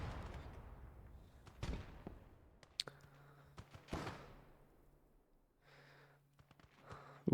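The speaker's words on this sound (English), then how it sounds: "Ooh, we got grenades back and forth." Grenade explosions in Gates of Hell: Ostfront, several sharp blasts spread over the battlefield, some near and loud and others distant, with scattered gunfire between them.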